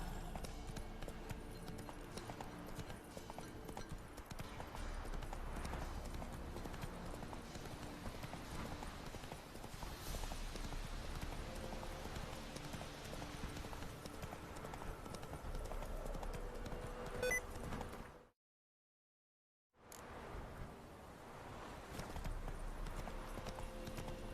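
Horse Roach galloping in The Witcher 3 video game, rapid rhythmic hoofbeats clip-clopping steadily and close, broken by a brief silent gap near the end.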